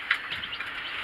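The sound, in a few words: white chicks chirping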